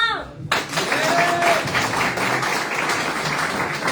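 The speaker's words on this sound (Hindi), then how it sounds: "तालियां" Audience applause at a recognition ceremony for direct-selling leaders, starting abruptly after a brief pause and continuing as a steady, dense wash of clapping from a large crowd, fairly loud throughout.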